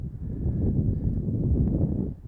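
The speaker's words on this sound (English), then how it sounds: "It is very windy. We're at the very top of this whole hill." Strong wind buffets the microphone on an exposed hilltop golf course, a steady broadband roar lasting about two seconds and then easing off.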